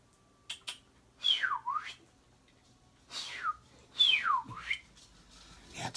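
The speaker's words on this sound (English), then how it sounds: "That's a weird whistle." Two sweeping whistles, each dipping down then rising, sound alone in a quiet room, with a few faint short chirps before them.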